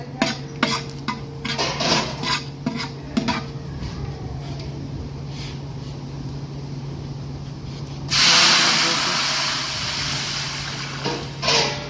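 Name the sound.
cumin, asafoetida and curry leaves sizzling in hot oil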